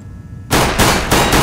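Pistol shots ring out at targets in Counter-Strike: Global Offensive, three or four loud, close, sharp reports fired in quick succession about a quarter second apart after a brief quiet lead-in.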